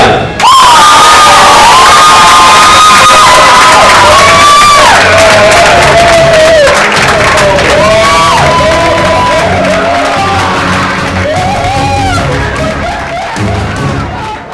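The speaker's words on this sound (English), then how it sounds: "let's get ready to give a big round of applause to first place" A crowd at a startup investment pitch summit cheers, whoops and shouts loudly for the first-place winner, with high excited voices rising and falling steadily throughout.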